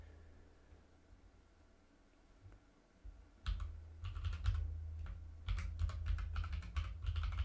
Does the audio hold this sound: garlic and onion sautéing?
no